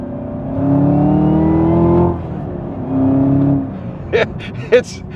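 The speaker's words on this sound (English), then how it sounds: "Just listen to that engine." A Chevrolet Camaro sports car engine hums and rises in pitch as it accelerates while driving, easing off twice, followed by a couple of short sharp knocks.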